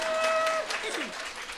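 A short burst of applause from an audience, dense and steady clapping with a faint whistle-like tone at the start.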